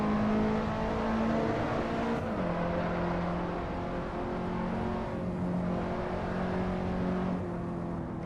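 A race car drives laps on the Roebling race track, its engine droning steadily with a drop in pitch as the driver lifts off for a turn and then climbs again, heard loud from inside the cockpit, no voices.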